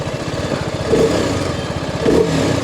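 A TVS Apache RR 310 motorcycle engine accelerates close by, its steady mid-pitched drone pulsing with throttle and swelling slightly twice.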